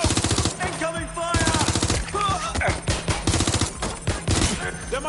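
Rapid bursts of automatic gunfire from a Watch Dogs Legion firefight, loud and close, coming in repeated volleys with brief gaps and scattered single shots between them.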